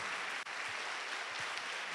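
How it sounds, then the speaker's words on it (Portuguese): A church audience claps during a sermon, a continuous, fairly even round of applause from many people filling the hall, sustained without pause for the whole stretch. "Você pode dar uma salva de palmas a Jesus por isso?"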